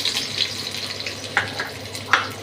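Onion and a bay leaf fry in moderately hot oil and ghee, giving a soft, low sizzle with a few sharper pops and spatters, fairly quiet and close, with no voices.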